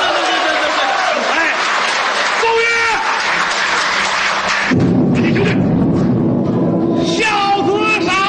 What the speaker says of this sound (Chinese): 大伙儿掌声鼓励一下